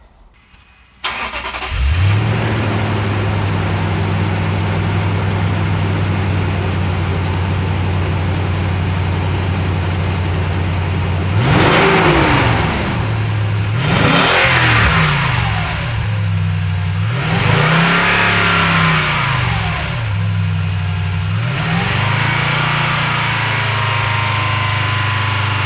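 A 2008 Toyota truck engine on its stock exhaust starts, settles into a steady idle, then gets several sharp revs that rise and fall, loud and close with no talking.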